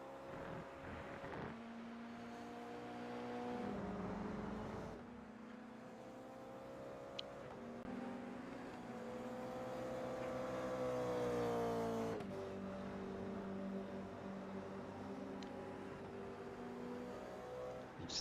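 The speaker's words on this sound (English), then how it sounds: "Definitely think Gr86s have definitely made for some much more entertaining racing" Toyota GR86 race cars in iRacing at Donington Park, with steady engine drone and gear-change steps as cars run at a distance, quiet and continuous, with no talking.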